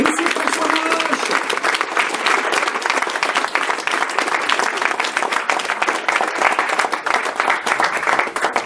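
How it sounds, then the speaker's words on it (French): Audience applause at the opening of a short-film festival, dense sustained clapping from a full hall that holds steady and loud throughout. "Applaudissements, Monsieur François Marache."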